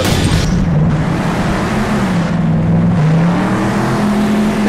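Megalodon Fire monster truck racing in Monster Jam Steel Titans, a loud, continuous engine roar whose pitch rises and dips as the truck accelerates and bounces, with rumbling booms underneath.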